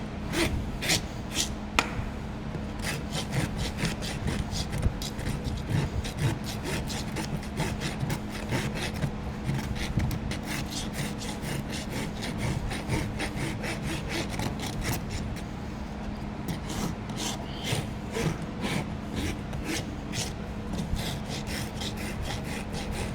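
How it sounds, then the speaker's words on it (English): A horse's hoof heel being trimmed and rasped, with steady rhythmic scraping and filing strokes running continuously at close range, briefly pausing near the start and again around midway, with no talking. "So pretty much just trim the heel back."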